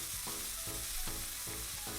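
Frozen chopped onion frying in a pan of hot oil, a steady close sizzle with rhythmic stirring scrapes roughly every half second, no talking.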